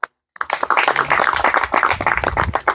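Applause at a YouTubers meetup in Jashpur, a crowd clapping loudly and steadily after a short silent gap, with a lone voice faintly underneath.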